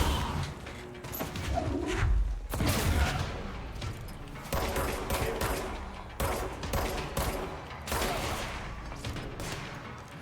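An enemy fires a shotgun at the player in the video game Control, inside the FBC. Sharp, loud blasts repeat through a running firefight, with gaps of combat noise between the shots.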